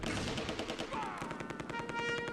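Bursts of small-arms and machine-gun fire crackle across a World War II battle in the tactical wargame Close Combat II, near Groesbeek and Arnhem, with repeated rattling volleys and faint tones in the background.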